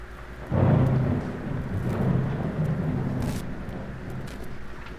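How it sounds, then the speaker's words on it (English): Thunderstorm sound effect in a full-cast audio play of Chekhov's Uncle Vanya: a loud thunder crack rolls into a long rumble over steady falling rain, with no voices. "The storm will be over soon, and everything in nature will be refreshed and sigh with relief."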